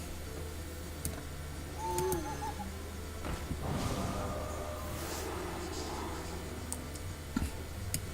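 An owl hoots when the Ironbeak Owl card is played in the Hearthstone video game: a short, soft hoot rises briefly over quiet game ticks and chimes, then the board sounds continue.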